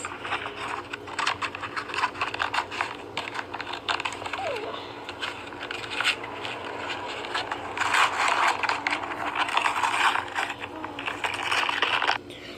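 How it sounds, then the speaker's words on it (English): An air conditioner runs noisily in a bedroom, a steady broadband hiss and hum filling the whole clip, with small clicks and rustles over it and no talking. "It's because of the air conditioner, and it's turned on over there, and it's just super noisy."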